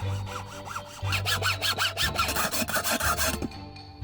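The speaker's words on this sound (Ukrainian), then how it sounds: "Розрізаємо її за допомогою пилки по металу" A hand hacksaw cuts through a car tire with steady rasping back-and-forth strokes, about four per second, close and loud with no talk over it.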